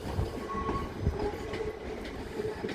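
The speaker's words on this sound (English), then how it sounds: "So they're going from the down sidings to the east sidings." A train rumbles through a shunt move between sidings at Ashford, with a steady rolling drone, faint wheel clicks and a thin squeal, heard from a moderate distance.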